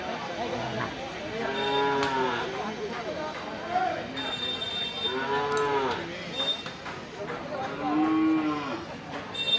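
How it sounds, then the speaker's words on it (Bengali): Breeding bulls at a rural cattle market low repeatedly in long, close, loud moos, several calls spread across the clip over a steady crowd murmur and voices. "সব কিন্তু খামার উপযোগী সার গরু।"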